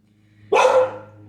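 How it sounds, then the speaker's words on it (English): A single sharp puppy bark in the game Altergeist, loud and close, ringing out briefly over a low background hum and fading away quickly. "Debut from the puppy."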